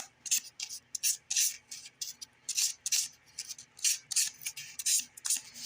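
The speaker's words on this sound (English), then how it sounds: "Then I'll take my sandpaper again, if I don't drop it. And I'll just kind of go around." Sandpaper rubbed around the edge of a model piece: short, rhythmic bursts of dry rasping scratches, about a dozen strokes with brief pauses between, close and quiet with no voices.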